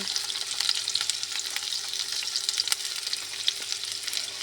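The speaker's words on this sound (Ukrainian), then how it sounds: "накриваємо та смажимо до золотистої корочки скоринки" Dense, steady sizzling of dumplings frying in a hot pan, a continuous crackle with occasional louder pops, close up and with no voices.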